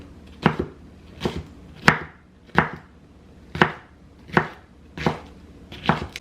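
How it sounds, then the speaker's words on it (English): Knife rough-chopping a jalapeno on a cutting board, eight crisp chops at a slow, even pace under a second apart, close and distinct with no talking. "then I'm gonna chop my jalapeno"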